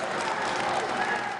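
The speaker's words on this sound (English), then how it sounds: "Applause marking the milestone, D-Day." Applause from a gathered group marks the first shipments of Pfizer's coronavirus vaccine heading out across the U.S., a steady wash of clapping that holds for the whole moment without a break.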